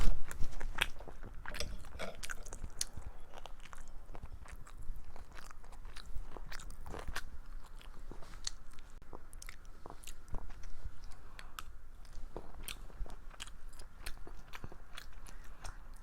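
Close, crisp crunching and wet chewing of kimchi with kimchi fried rice, irregular bites repeating steadily over a quiet background with no talk.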